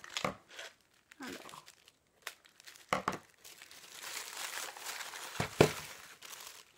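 Box being opened, with paper and plastic packaging crinkled and torn in close, irregular bursts separated by brief pauses, growing into a longer rustle toward the end, while someone briefly speaks French.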